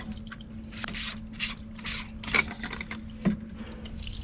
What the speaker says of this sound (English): we're just going to drain our salt cell.